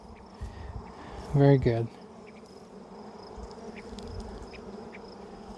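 Honey bees hum in a steady low buzz around an open hive during an inspection, with a brief spoken remark rising over the swarm partway through.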